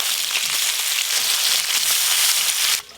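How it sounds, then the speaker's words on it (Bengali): Fish frying in hot oil in a home kitchen gives a steady, close crackling sizzle that holds for nearly three seconds, then cuts off abruptly near the end. "এই মাছগুলো ভাজা হয়ে গেছে।"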